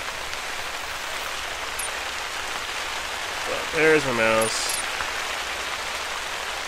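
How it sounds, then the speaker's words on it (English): Heavy rain in the hunting game The Hunter: Call of the Wild makes a dense, steady hiss throughout, with someone briefly speaking over it. "And that's raining heavily."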